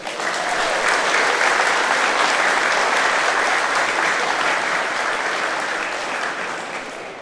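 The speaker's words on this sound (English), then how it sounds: "So give yourselves a big round of applause." A full house at the GAA handball finals breaks into loud, steady applause that carries on unbroken for seven seconds before tapering slightly at the end.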